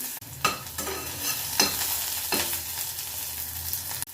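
Chopped onion frying in oil and ghee in a pan, a constant sizzle broken by several sharp scraping stirs of a spoon against the pan, close up and with no voices.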